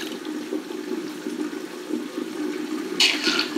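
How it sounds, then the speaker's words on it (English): Rinse water from hand-washed antique lace drains from a basin with a low steady gurgling flow, joined near the end by a brighter rushing splash. "we're gonna let all this water drain."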